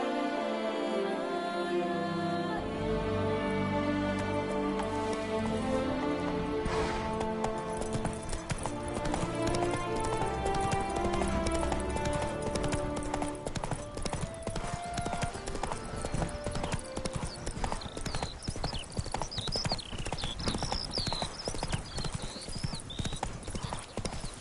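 Rhythmic clip-clop of a horse galloping in The Witcher 3, steady hoofbeats running throughout over a continuous orchestral music score, with a brief whinny and a voice calling out.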